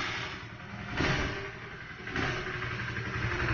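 Small Kawasaki KSR 110 mini trail motorcycle engine starting, a couple of surges as it catches and then settles into a steady mid-pitched idle, close by.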